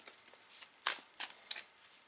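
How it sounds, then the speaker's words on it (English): A deck of Witch Tarot cards is shuffled by hand close up, giving soft, quick riffling flutters punctuated by a few sharper crisp bursts of card-on-card snapping, with no talking. "So I'm gonna shuffle these cards"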